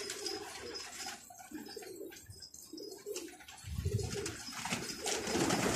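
Several pigeons coo in soft, rounded, repeated phrases, fairly close and overlapping, with a few faint chirps and rustles and a slight swell in level toward the end. The setting is an outdoor pigeon-catching spot, and no one speaks.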